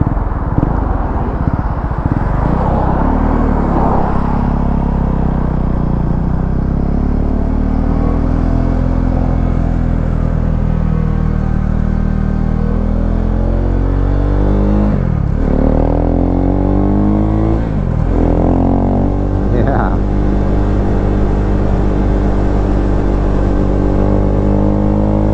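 Modified Husqvarna Svartpilen motorcycle engine droning steadily while riding, a loud, continuous rumble with rising and falling revs and a few sharp throttle shifts, close and alone.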